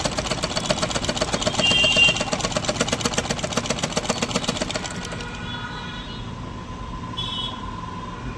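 A sewing machine stitches a long seam, running with a fast, steady mechanical chatter for about five seconds, then stops, leaving quiet with faint rustling and a brief light clatter.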